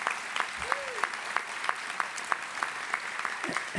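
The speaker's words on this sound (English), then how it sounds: "Let's give her a round of applause." Audience members at a keynote session of the 2014 Aging Summit applaud with thin, scattered claps, a light and fairly faint patter of hands that stays even throughout.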